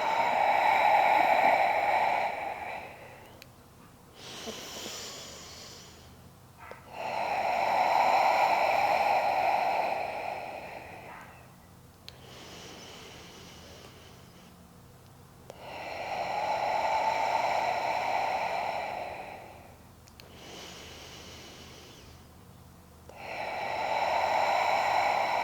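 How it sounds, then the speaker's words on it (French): Slow, deep breaths during a prenatal yoga session, each long inhale and exhale swelling and fading in a steady cycle of roughly four breaths, close and fairly soft, with no talking over them. "on va faire 5 belles respirations"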